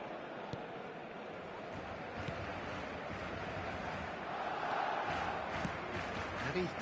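A football stadium crowd roars and cheers in a mobile football video game, a broad, swelling wash of noise that builds toward the middle and stays under the game's sound.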